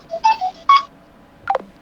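Short electronic phone tones sound in separate bursts, a few quick beeps followed after a pause by a falling tone, as a boss's incoming call is picked up, with no talking.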